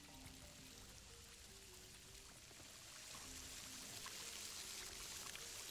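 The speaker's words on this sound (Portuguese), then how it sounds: "Eu tô ouvindo um barulho de água caindo." Water falling steadily in Crash Bandicoot 4 on PC, a continuous pouring, running stream that swells slightly louder midway and carries on without pause.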